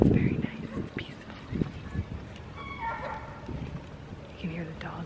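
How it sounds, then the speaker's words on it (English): Dogs bark and yip at a lake in a Seattle dog park, just beyond bushes, with short scattered calls at middle distance and a person talking over them. "You can hear the dogs at the lake though, because they're just like right on the other side of those bushes."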